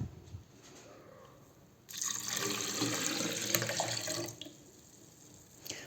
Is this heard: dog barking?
no